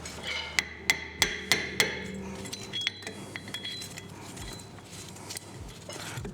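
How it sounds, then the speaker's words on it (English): Five sharp, ringing hammer blows land in quick succession on a car's front coilover hub, followed by fainter metallic clinks and taps, close by. "Still gonna need to hit that with a hammer."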